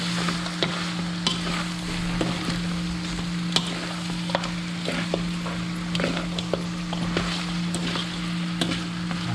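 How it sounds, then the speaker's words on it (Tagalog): Spare ribs sizzle in a pan while a utensil stirs them in sharp, irregular scrapes and knocks. A steady low hum runs underneath. No one is speaking. "kailangan natin haluin yan masarap kasi spare ribs talaga"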